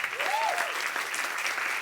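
Sustained applause from a concert audience for a band, with steady dense clapping and crowd noise throughout, with a faint voice rising briefly above it.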